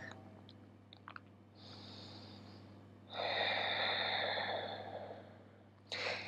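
A deep breath during a slow, relaxing yoga practice: a soft inhale followed by a longer, fuller exhale through the nose, close and fairly quiet over a low steady hum.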